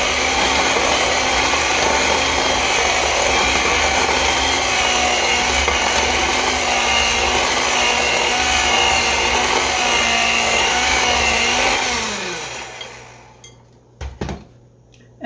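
Flour mixture for date pecan tea bread being blended: a steady, loud whirring churn runs for about twelve seconds, then winds down and stops, followed by a couple of soft clunks.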